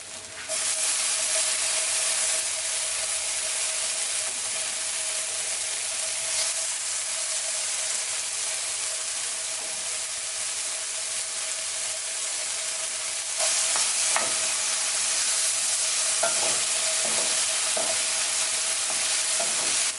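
Peppers hitting a hot pan with browned lemon and green onions in a stir fry with cured lemon quinoa, giving a loud continuous sizzle that swells partway through, with scraping and clacking of a utensil stirring near the end.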